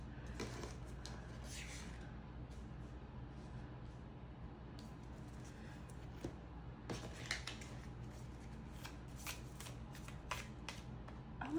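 Tarot cards being shuffled in quick riffling bursts, soft and close, with faint low background hum and occasional brief murmurs.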